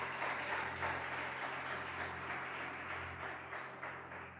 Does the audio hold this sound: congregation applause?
yes